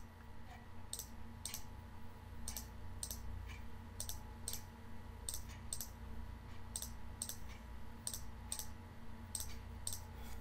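Mouse clicks on timeline bars in PowerPoint while building a Gantt chart, a series of sharp, light clicks in irregular clusters over a faint steady hum.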